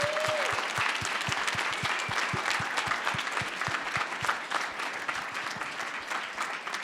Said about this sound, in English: So let's give a round of applause to Ty,